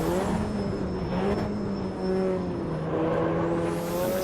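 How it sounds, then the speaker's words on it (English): Race car engines in the racing game Automobilista drone steadily at high revs, a continuous loud mechanical whine with slight pitch shifts as the cars hold speed, no voices heard. "All the cars sound fantastic."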